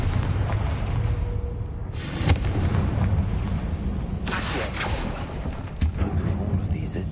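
A fire-based Confringo blast spell in the Hogwarts Legacy video game, a few sharp booming bursts over game music and ambient rumble, with a player's voice heard.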